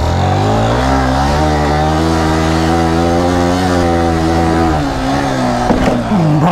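A Yamaha R15 motorcycle engine revs hard offroad, a loud sustained whine rising and holding before dropping sharply near the end.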